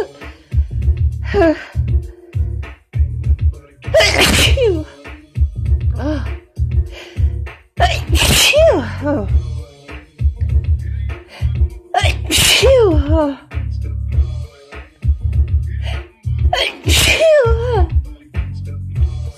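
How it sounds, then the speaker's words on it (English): Loud, close sneezes burst out one after another, each preceded by a sharp intake of breath, about half a dozen with quiet gaps between. "Feeling pretty sneezy right now."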